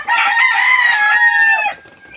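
A rooster crows loudly and close by in a backyard flock of chickens, one long drawn-out call that fades into faint clucking.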